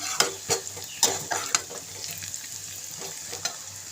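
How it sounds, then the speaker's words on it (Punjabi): Garlic, ginger and water spinach sizzle in a pan while a spoon stirs, giving several sharp scraping knocks early on over a steady frying hiss. "ਹੁਣ ਆਪਾਂ ਇਹਨਾਂ ਨੂੰ ਮਿਕਸ ਕਰਾਂਗੇ ਥੋੜਾ ਜਿਹਾ ਹੀ ਸੇਕ ਲਵਾਵਾਂਗੇ"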